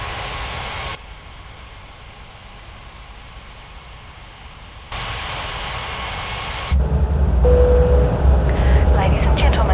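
An airliner taking off from a runway in a flight simulator game, with steady broadband engine roar that steps up in loudness partway through and builds further toward the end, heard alone.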